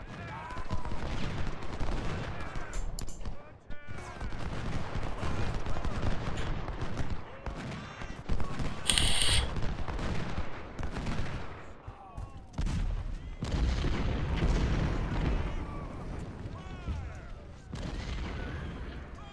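Long-range musket volleys and artillery fire from a Civil War battle in the video game Ultimate General: Civil War, heard as dense crackling gunfire and booms running almost throughout, with a person talking over it.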